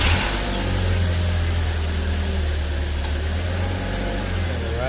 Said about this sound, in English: let's start the vehicle and see if it starts up